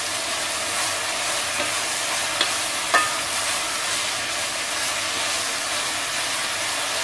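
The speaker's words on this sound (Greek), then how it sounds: "Ανακατεύουμε." Food sizzles steadily as it fries in a pan with salt, while a spoon stirs it; two sharp clicks near the midpoint stand out against the continuous hiss. No one speaks.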